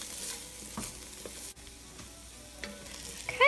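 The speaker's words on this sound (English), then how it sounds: "We'll just go ahead and give that a stir, and we'll give it a couple seconds to cook in with the onions." Garlic and onions cook together for a simple spaghetti sauce, a soft, continuous sizzle close by with a few faint stirring scrapes and a brief clatter at the end, no voices.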